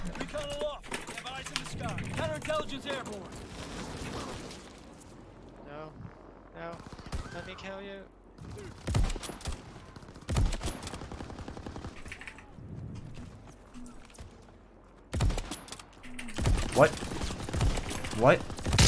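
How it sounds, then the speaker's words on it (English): Video game gunfire rattles out in scattered bursts of rapid shots between stretches of quieter play, with people talking over and between the volleys. "I was shooting at the dead body"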